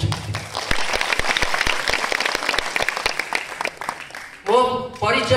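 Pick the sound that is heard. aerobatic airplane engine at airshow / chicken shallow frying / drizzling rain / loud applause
loud applause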